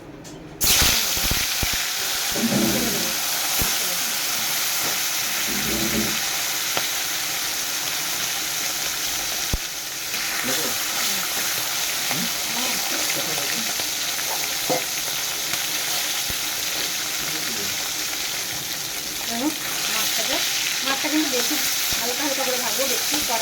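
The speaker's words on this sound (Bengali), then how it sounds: "এই গরমে মাছ আমার ভাজা হয়ে গেছে" Live snakehead fish fry in hot oil in a wok, giving off a loud, continuous sizzle and hiss with occasional crackles and spatters that runs steadily for the whole stretch.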